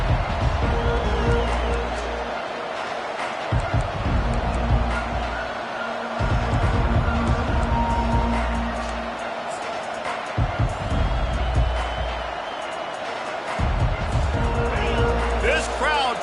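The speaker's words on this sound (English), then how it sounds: "This crowd trying to show them what it's going to be like all day in this house." Stadium crowd noise from the College Football 25 video game, a loud continuous roar that swells in bursts under steady play-by-play commentary.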